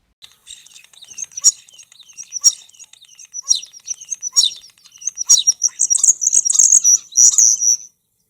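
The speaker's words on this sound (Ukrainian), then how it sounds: "Як цю пташку звати? Шпак. Діти, послухайте, як він співає." A common starling sings alone, a bright series of high chirps, whistles and rapid clicking trills in repeated bursts that grow denser and louder toward the end, close and clear.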